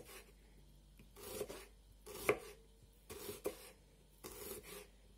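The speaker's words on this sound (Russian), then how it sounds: "Итак, мы порежем все луковицы." A knife chops through onions on a board in several spaced strokes, close and fairly quiet, with faint rasping between cuts.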